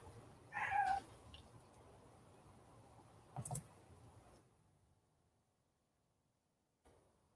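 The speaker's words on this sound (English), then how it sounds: "I don't know if you can hear my cat, but she is going to be meowing at me." A pet cat meows once indoors, fairly close and clear, followed by a few faint clicks and a short thump against a quiet room hum that fades to near silence.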